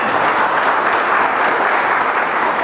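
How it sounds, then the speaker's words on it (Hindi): A hall audience at a railway goods-shed workers' union gathering applauds loudly for the stage host. Dense, continuous clapping fills the whole stretch at an even level, with no talk over it. "जोरदार तालियां हो जाएं"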